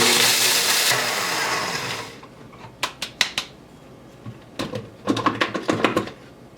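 A blender grinds cottage cheese crunch into flour in a loud, continuous whir for about two seconds. After it stops come scattered sharp clicks and taps, likely from the jar being handled.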